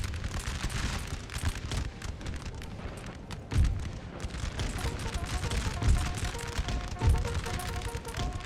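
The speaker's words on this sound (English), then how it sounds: "So far it's just been a cannon duel" Cannon fire in Napoleon: Total War booms out during the Battle of Burgos as a few heavy, deep thuds over a dense, constant crackle of distant battlefield gunfire.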